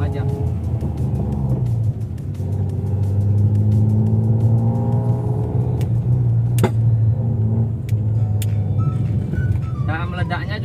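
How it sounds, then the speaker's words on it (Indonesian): A Daihatsu Ayla 1.0 fitted with a stage 2 tune and a tight muffler, its engine droning steadily and rising in revs during a drive, with a few sharp exhaust pops near the end. "meledaknya juga jarang-jarang dan nggak terlalu keras karena di sini gue menggunakan muffler yang tipe ngepas"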